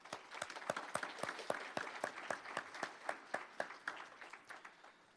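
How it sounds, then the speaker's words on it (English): A graduating class is applauded at a scholarship awards ceremony: a sparse round of individual claps, fairly quiet and distinct, loosely rhythmic, gradually thinning out over several seconds with no talk. "Let's give all of you a round of applause."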